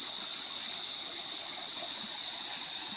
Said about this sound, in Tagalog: Running water mga kaprops yung sapa niya.